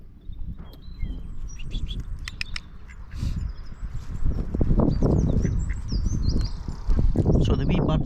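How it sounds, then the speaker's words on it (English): Ducks quacking near picnickers in the Glencoe hills of the Scottish Highlands, with other small birds calling; steady outdoor calls run throughout at moderate loudness, with no talk. "And there's a couple of ducks."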